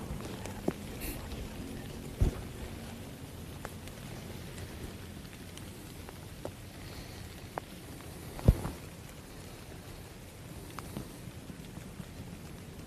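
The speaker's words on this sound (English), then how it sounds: "It's a pretty steady rain." Steady rain patters outdoors during whitetail deer rut season in the Midwest, a continuous soft hiss with occasional louder drips and taps scattered throughout, no voices.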